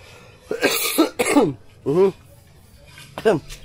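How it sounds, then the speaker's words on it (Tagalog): A few harsh, throaty coughs burst out in quick succession, close to the microphone, followed after a pause by a final cough. "Hindi maiwasan ang ubo medyo may tunog."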